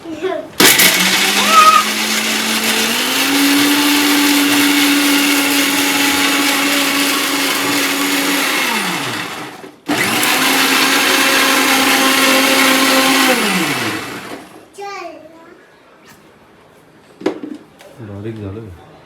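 A kitchen mixer grinder whirs loudly through two long runs blending chicken masala paste, with a brief stop between them, then quieter clatter and voices follow.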